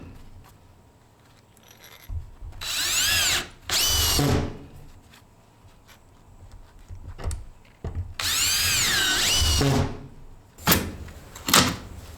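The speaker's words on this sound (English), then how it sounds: "my drywall bit works so excellent for doing subfloor, where it just sets the screw to the right depth" A drill fitted with a drywall bit drives screws into a plywood subfloor in a mobile home: two long whirring runs that rise in pitch, each ending in a sharp stop, with thuds and clicks between them and no speech.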